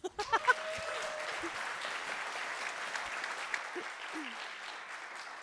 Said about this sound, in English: please float Laura up onto the stage with a round of applause.